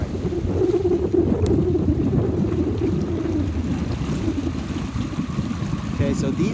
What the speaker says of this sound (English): Great wind right there.